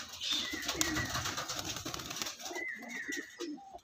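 An Andhra-breed pigeon coos softly nearby in a few low, rolling calls, with faint rustling and background noise around it, beside a net at a pigeon sale.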